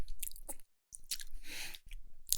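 Close, moist chewing of a crunchy snack, with quick bites and squishy crunches running in a steady burst after a brief gap.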